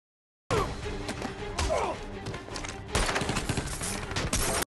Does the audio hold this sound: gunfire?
yes